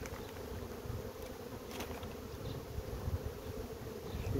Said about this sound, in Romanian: Acum albina este pe la cules.